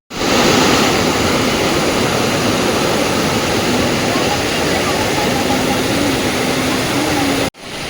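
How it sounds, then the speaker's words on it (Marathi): A large waterfall pours down from a height in the forest near Bhimashankar, a loud, steady roar of rushing water that stays constant and close for about seven seconds before cutting off briefly at the end. "इथून भला मोठा धबधबा खाली पडतोय"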